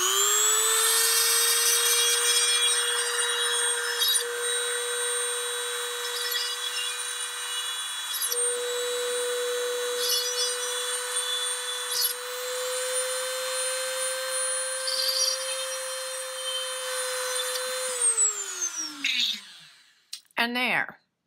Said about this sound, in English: Now I can go in like so and drill all the way through